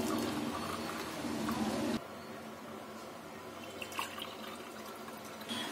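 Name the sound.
Irani tea being poured into a cup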